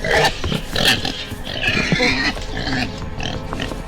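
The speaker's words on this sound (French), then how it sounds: "je suis en train d'attirer le cochon" A pig in a horror video game grunts and snuffles in a string of close, rough oinks that continue throughout, with a brief voice exclamation over them.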